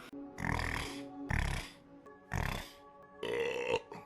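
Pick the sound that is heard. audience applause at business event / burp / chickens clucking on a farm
burp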